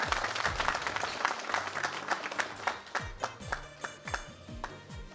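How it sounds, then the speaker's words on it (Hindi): Audience applause welcoming a performer, dense rapid clapping from a crowd that fills the whole stretch, with a few sharper single claps and taps standing out toward the end. "तालियों से हमारे गुलकार को कीजिएगा।"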